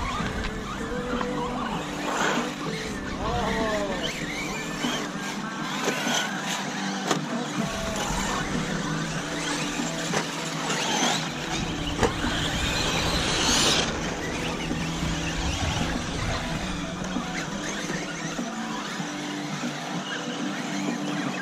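RC cars race on a dirt track at an outdoor competition raceway, their engines a continuous buzzing whine of varying pitch from several cars passing near and far, with a faint voice at times.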